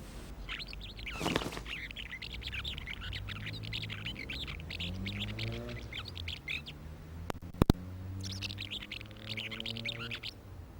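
Bursts of high, buzzy chirping twitters come from several house martins, pausing in the middle, over a low background hum with a brief sharp click.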